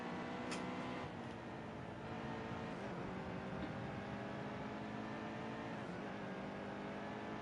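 A race car engine in the NASCAR Heat 2 video game drones continuously at a fairly constant pitch through the clip, faint overall, with slight shifts in tone but no distinct revs or talk.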